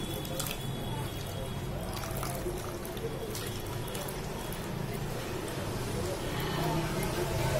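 A strained liquid is poured into an ice cube tray, giving a steady close trickle and dribble that runs throughout, with a voice talking over it.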